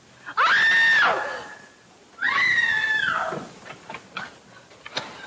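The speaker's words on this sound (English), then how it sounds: "Who screamed?" A woman screams twice in a 1944 thriller film, two loud, shrill, sustained cries separated by a short pause, followed by a few fainter knocks and thumps.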